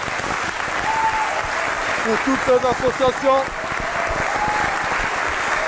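An audience applauds throughout a gathering honoring a Congolese musician, steady clapping filling the room while someone speaks over it in French, with a brief burst of voices in the middle.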